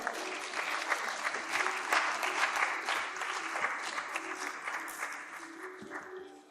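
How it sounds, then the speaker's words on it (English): An audience at a dental workforce education panel applauds as a fellow panelist is felicitated, giving moderate, continuous clapping from many hands in a room, gradually fading over about six seconds. "Let's have a round of applause."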